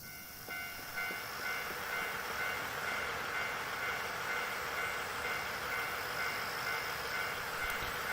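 A train in the video game Nostalgic Train gives a faint, steady rolling rumble with a thin whistle-like tone running over it throughout.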